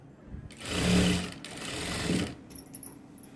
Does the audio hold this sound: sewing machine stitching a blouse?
yes